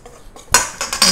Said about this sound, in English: Mix it